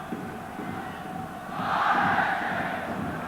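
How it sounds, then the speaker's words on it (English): Small football crowd murmuring in a well-appointed Bordeaux stadium during a UEFA Cup match against Bohemians Dublin, a distant steady hum that swells into a louder roar midway. "Smallish crowd in their well-appointed stadium."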